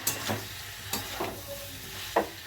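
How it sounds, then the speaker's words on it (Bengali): Garlic paste being stirred into spices frying in a pan, with a few distinct scraping strokes over a soft, steady sizzle, close and moderately quiet. "খানিকটা রসুন বাটা দিয়ে ভালো করে এটাকে নেড়ে"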